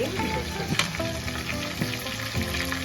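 Chicken frying in a pan for a South Indian chicken fry, with a steady close sizzle and occasional stirring clinks scraping through it, no voices.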